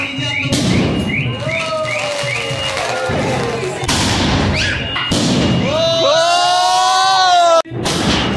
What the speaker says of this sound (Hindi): हम लोग जो जा रहे हैं अभी पटाखे फोड़ने के लिए